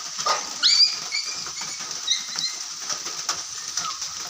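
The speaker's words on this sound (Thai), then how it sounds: "ฝนตกลินมื้อนี้" Rain falls in a steady, hissing patter on a pig pen under construction, moderately loud, with a few faint high squeaks rising above the wash.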